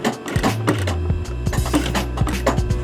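Industrial sewing machine stitching a heavy denim jeans hem, running in a loud steady mechanical whir with rapid needle clatter, pausing and restarting as the thick seam is fed through slowly.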